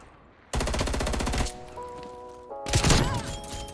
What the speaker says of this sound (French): Merde, shotgun